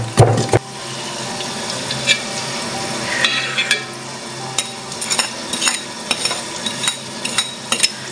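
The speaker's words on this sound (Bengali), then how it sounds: "আমি এখন পর্যায়ক্রমে আস্তে আস্তে নাড়ব" Spoon stirring a mixture of ghee, powdered jaggery and honey in a pan, with soft scraping and clinks recurring through the stretch over a faint low sizzle, close and fairly quiet, no talking.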